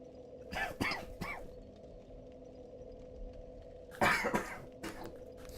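Two bursts of close, hoarse coughing, a few quick coughs each, separated by a quiet pause with a faint steady hum underneath.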